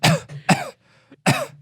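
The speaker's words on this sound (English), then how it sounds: "3 coughs in a row" Three separate coughs in a row, close and fairly loud, with short pauses between them and a faint throat noise in the gaps.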